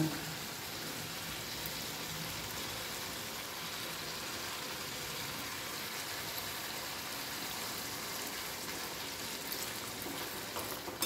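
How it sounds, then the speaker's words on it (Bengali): Aloo dum, a potato curry, sizzling in a pan after a little water is added, a steady even hiss like light rain that holds at a soft, constant level throughout. "অল্প জল দেব"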